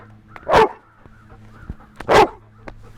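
A trained dog barks twice on command during ball-play obedience training, two loud close barks about a second and a half apart with quiet pauses between.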